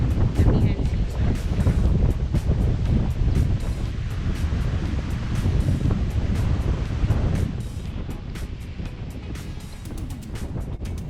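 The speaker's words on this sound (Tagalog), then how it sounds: "But, doble po yung lakas ng alon ngayon kasi nga amihan season" Strong ocean waves crash along the northern coast of Siargao in the Philippines during amihan season, a loud continuous surf roar heavily mixed with wind gusts hitting the microphone.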